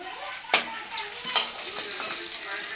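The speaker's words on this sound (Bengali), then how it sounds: "এই যে দেখুন লাল লাল করে মাছ ভেজে নিচ্ছি।" Large pieces of fish fry in oil until reddish, giving a soft, steady sizzle punctuated by a couple of sharp utensil clinks and stirring scrapes.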